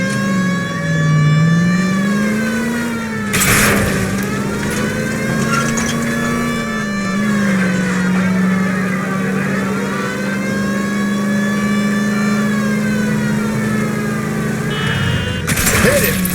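Car engine in the LA Noire video game, humming steadily as the vehicle drives, with pitch rising and falling as it accelerates; two short loud crashing bursts break through, near and prominent.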